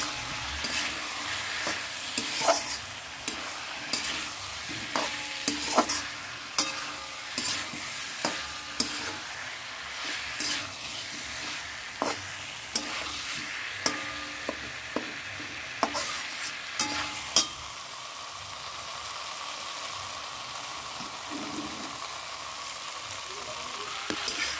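Potatoes fry in a spice masala and are stirred repeatedly, giving a soft sizzle punctuated by regular spoon clacks and scrapes against the pan that ease off near the end.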